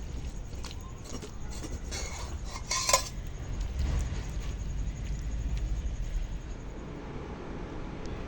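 Plates and cutlery clink and scrape at a meal table as pumpkin leaf curry is served, with a sharper burst of clattering midway over a low steady background rumble.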